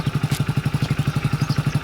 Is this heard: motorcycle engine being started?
yes